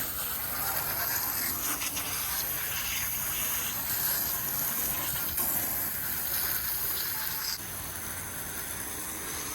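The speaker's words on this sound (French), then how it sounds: "Ça va bien me geler mon jet. Allez, on arrose bien." A water jet sprays hard against the rear quarter window seal of a three-door Peugeot 205 outdoors in freezing weather, giving a steady, loud, dense hiss that runs without pause and eases slightly near the end.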